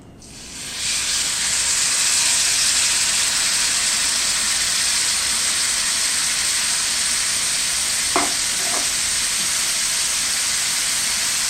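Grated bottle gourd hits hot ghee in a pan and settles into a loud, continuous close sizzle and hiss, with a couple of soft scrapes of a spoon near the end.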